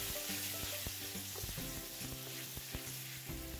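Pork belly being stir-fried in a wok with caramelised rock sugar, a steady broadband sizzle with scraping stirs and clunks of the spatula against the wok throughout, alone with no talk.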